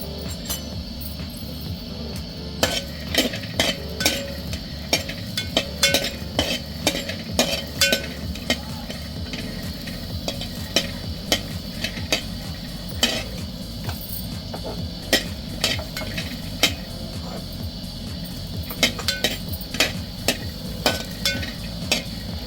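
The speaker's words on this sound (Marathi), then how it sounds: "त्यामध्ये हे वाटाणे आता आपण भाजून घ्यायचे" Dry peas rattling and scraping in a hot pan as they are stirred, with irregular clicks and taps over a low steady hum.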